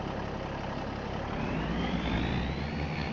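A truck engine in Farming Simulator 25 runs continuously, a loud steady low rumble with a faint rising whine, heard alone without talk.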